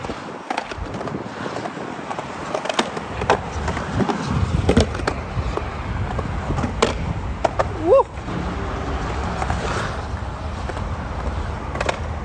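A skateboard fitted with soft wheels grinding and rolling around a transition, a low rumbling roll with scattered knocks and scrapes, under occasional wind noise.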